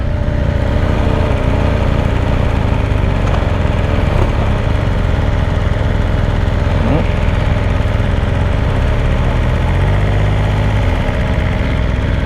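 2020 BMW S1000RR motorcycle engine running close by, a continuous loud idle-like rumble with a few brief revs and vibration, no talking.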